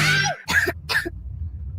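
A child gives three sharp coughs in quick succession, close and fairly loud, with a short pause between each and quiet afterward.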